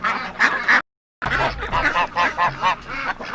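Farm ducks quacking up close in a run of loud, rhythmic calls, broken by a brief gap before another burst of several repeated quacks.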